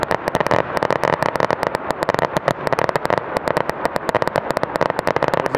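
Fireworks at a fireworks festival in Bamsebo fire a rapid volley of balls into the air, with dense crackling bursts repeating fast and loud throughout.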